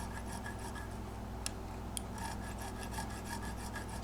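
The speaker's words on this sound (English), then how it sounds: "This is a diamond file, 10/1000ths of an inch" Diamond nut file, ten thousandths of an inch, widening the string slots of a guitar nut, a steady close rhythmic rasping scrape with a couple of sharp ticks.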